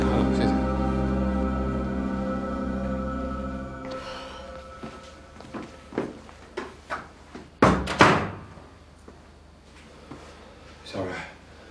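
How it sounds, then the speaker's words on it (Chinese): An apartment door is opened, with a latch clunk and several knocks and thuds, followed by a sharper bang. Background music plays early on, and people speak around the sounds. "门开了"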